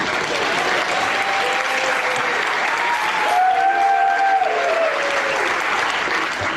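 Audience at a magic show breaking into applause, dense sustained clapping from a crowd, fairly loud and continuous with a slight swell in the middle.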